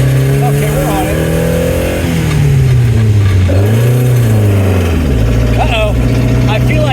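A Lancia Fulvia HF Rally Speedster's engine lugs and strains at low speed in too high a gear, a steady droning hum that wavers in pitch, with a person talking over it throughout.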